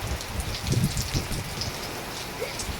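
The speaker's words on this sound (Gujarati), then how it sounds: "વરસાદ પડી રહ્યો છે" Steady rain hisses down in a soft, even wash over a rural village in Gujarat, with no voices.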